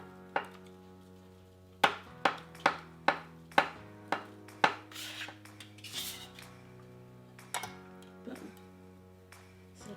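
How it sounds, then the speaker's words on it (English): Cheese being chopped with a fork for jalapeno popper wonton filling, a run of sharp clinking taps against a plate or bowl, quick and evenly spaced at first, then sparser and softer scraping. "You chop some of this cheese up because I'm gonna mix it for the jalapeno popper"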